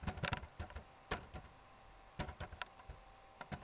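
Typing on a computer keyboard while writing Java code, quick clusters of close crisp key clicks separated by short pauses, alone with no talk.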